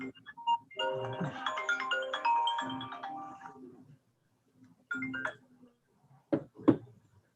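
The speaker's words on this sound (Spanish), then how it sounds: "olvidé poner en silencio mi teléfono." A mobile phone ringtone plays a melodic electronic tune for about three seconds during a class roll call, then stops; a voice speaks briefly afterward.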